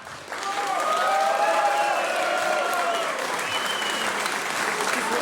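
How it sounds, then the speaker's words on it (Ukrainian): Sustained applause from a crowd after a bare-knuckle fight, steady clapping that swells in quickly and carries on evenly, with some cheering tones riding over it. "Оплески хлопцям заслуговують бонус."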